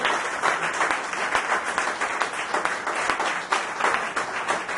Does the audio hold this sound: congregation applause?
yes